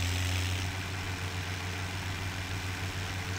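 A small tractor's engine in Farming Simulator 17 idles and runs with a steady low hum and constant drone, even and unbroken, with no talking.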